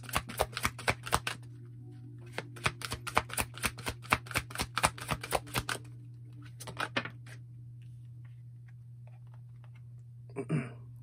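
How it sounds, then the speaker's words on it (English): Wisdom of the Oracle cards being shuffled by hand, with quick repeated riffling bursts in several runs over a steady low hum, then a short pause and a final soft shuffle. "Let's pull some of these Wisdom of the Oracle cards."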